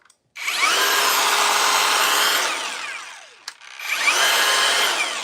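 A Rebel woodworking power tool from Craig runs loudly and steadily for about two seconds, winds down, and then starts up again for a second run. A sharp click falls between the two runs, and no one speaks.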